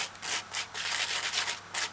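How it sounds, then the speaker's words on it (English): A wooden spoon presses guava papaya juice through a strainer, making rhythmic scraping rubs in quick repeated strokes, close and fairly quiet with no talk. "Use the wooden spoon to aid straining."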